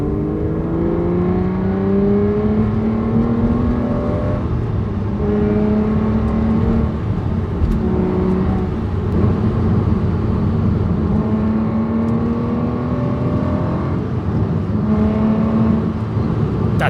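A hand-built British V12 with a manual gearbox revs steadily and loudly up close, the deep engine note rising and falling through repeated blips of the throttle for the whole stretch, with no talk over it.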